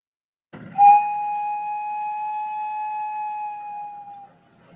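A steady train whistle from the Train Mountain railroad sounds as one long, clear tone that holds for about three and a half seconds before fading, with no talk over it.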